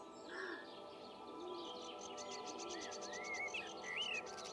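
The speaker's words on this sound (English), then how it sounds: "listen to the birds" Soft bird chirps and short whistled calls sound faintly in a calm outdoor scene of a walking simulator video game, with a bench among trees, over a gentle insect-like background hiss.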